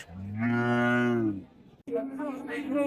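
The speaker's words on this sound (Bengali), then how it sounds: "ও দেশি গরু একটা" A local deshi cow gives a long, loud, close moo lasting about a second at the Hazratpur cattle market in Bangladesh, followed after a brief pause by a lower, rougher bovine call amid market background noise.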